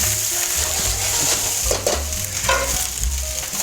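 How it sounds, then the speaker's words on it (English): Steady crackling sizzle of rice frying in a hot, well-seasoned iron skillet, with occasional scraping and stirring sounds, close and fairly loud, no talking. "All right, so now the rice is just frying."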